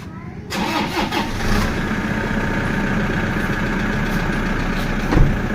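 Vehicle engine cranking briefly and catching, then settling into a loud, steady close idle with a short bump near the end.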